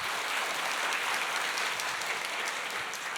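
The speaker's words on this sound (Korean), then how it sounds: "그 예수님께 영광의 박수 올려드리겠습니다." A church congregation in Daegu applauds together during a Sunday sermon, producing a dense, steady wash of clapping that carries evenly for a few seconds with no voices over it.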